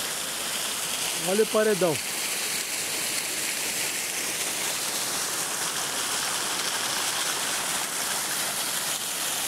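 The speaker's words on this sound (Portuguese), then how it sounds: "Aí a água desce por ali, ó." Water flows down a rock wall in a quarry, a steady rushing hiss that runs unbroken throughout, with a brief spoken remark near the start.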